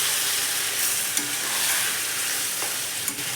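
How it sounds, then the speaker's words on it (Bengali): Chicken pieces fry and sizzle in a pan on a stove, a steady broadband hiss with a few faint clicks and taps of movement, close and continuous with no talking. "দেখুন চিকেনটা আমার বসিয়ে দিলাম।"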